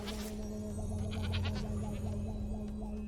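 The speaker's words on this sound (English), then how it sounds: "Poor goat." A goat bleats in Spyro 2: Ripto's Rage (Reignited Trilogy), a series of wavering, nasal cries over a sustained game music drone and hum.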